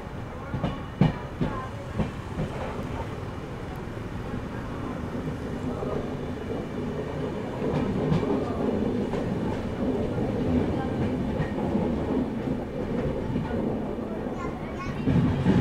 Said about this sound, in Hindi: तो ये हमारी टूटीकोरन एक्सप्रेस फिलहाल पहुंच चुकी है बेंगलुरु कांट रेलवे स्टेशन।